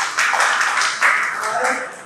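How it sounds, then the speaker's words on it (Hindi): An audience at a college youth festival quiz competition gives a brief burst of clapping that swells twice, close by and fairly loud, lasting about two seconds. "जनाब के लिए तालियां हो जाए।"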